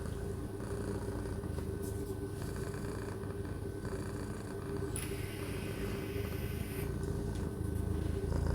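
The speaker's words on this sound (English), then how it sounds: "make a video of all her purrs and put it in one video" A cat purrs close up, a continuous low rumbling throb that stays steady and fairly soft with no talking.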